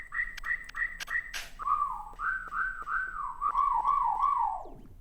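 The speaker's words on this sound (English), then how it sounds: "I have these whistles" Whistle samples fire in a DJ routine: a run of short, bright repeated whistle blasts, then a longer wavering whistle melody that dips and rises before sliding down and cutting off, loud and up front.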